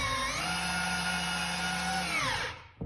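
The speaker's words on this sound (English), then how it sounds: "maybe drive a couple extra screws in here just to kind of show you what that would look like" A Festool CXS drill/driver drives screws in one sustained whining burst with a steady motor pitch, then spins down and stops near the end, close and loud, with no talk.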